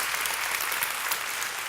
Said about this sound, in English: So give him a round of applause for